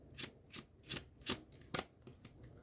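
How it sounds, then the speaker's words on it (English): A pile of playing cards being shuffled by hand for a card trick, making five or six crisp riffling bursts at a steady rhythm, close and quiet, with no talk. "Start to shuffle this pile and focus on it."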